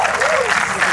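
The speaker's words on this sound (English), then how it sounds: "A big round of applause." A talent show audience applauding for the performer Wet MC: brief, dense crowd clapping with a voice over it.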